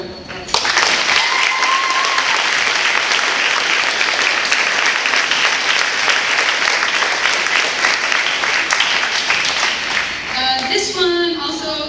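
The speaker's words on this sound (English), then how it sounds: "that's for Magna, if we could give her a round of applause." An audience at a 2017 spring concert awards ceremony breaks into loud, sustained applause that holds steady for several seconds before thinning out near the end, where a voice begins to speak.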